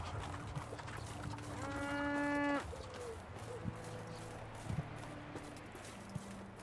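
A cow in a field gives one drawn-out, mid-distance moo against quiet outdoor ambience. A few soft thumps and faint rustles follow.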